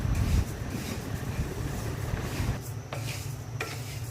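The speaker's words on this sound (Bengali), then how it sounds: "খিচুড়ি রান্নার জন্য মুগের ডালটা ভেজে নিচ্ছি।" Mung dal is fried in a pan for khichuri, making a soft, close rustling sizzle with repeated scraping stirs and no speech.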